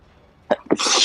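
A single sharp sneeze bursts out close to the mic during an online game session, a quick two-part blast followed by a loud, hissy release.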